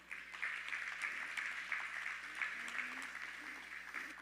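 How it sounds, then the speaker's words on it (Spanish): Church congregation applauding during a Spanish-language worship service, a steady mid-level patter of clapping with a faint voice underneath, continuing evenly throughout. "Dele un aplauso al Señor."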